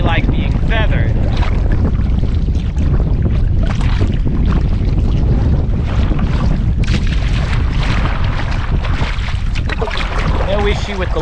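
Strong wind gusts roar across the microphone while a kayak paddle splashes through choppy water, loud and continuous throughout with steady buffeting.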